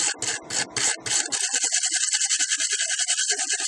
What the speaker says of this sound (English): It's a very small wire brush here.